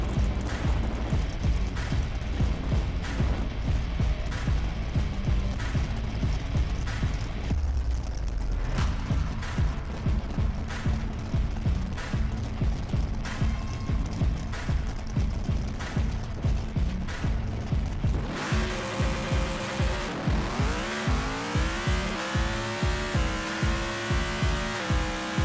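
A pro stock drag race car in an online racing game, its engine droning loudly and steadily with a rapid pulsing beat, then rising through gear changes near the end of the run.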